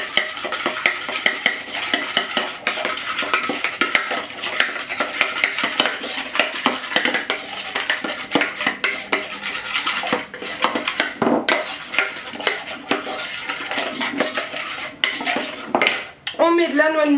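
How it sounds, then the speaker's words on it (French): A mushroom and chicken sauce mixture for chicken papillotes stirred in a bowl, with a dense, continuous scraping and clinking of a utensil against the bowl close up that barely lets up, ending in a brief change of sound. "on mélange déjà cette première préparation"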